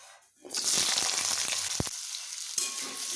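Cut potatoes hit hot mustard oil in a wok, the sizzle bursting in after a quiet start and hissing loudly and steadily, with a spatter or clink partway through.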